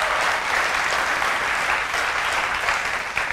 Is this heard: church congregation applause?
yes